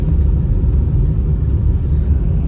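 Inside a moving Toyota Sienna, a steady low road rumble and engine drone fills the cabin, continuous and fairly loud, with no voices.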